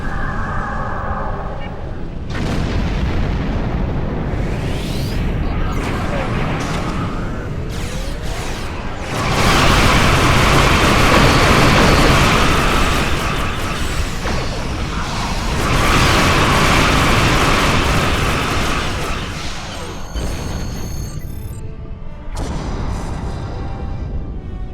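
A dreadnought explodes in the space combat of Star Trek Online, a long roaring blast with whooshing swells and rumbling layered over game sounds and music, loud and sustained before fading.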